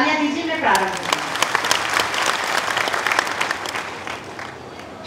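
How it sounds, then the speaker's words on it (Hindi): Loud, sustained audience applause at a Hindi kavi sammelan poetry recital, a dense steady clapping that swells in after a brief voice at the start and continues to the end. "माँ के आह्वान में एक बार जोरदार तालियां दीजिए"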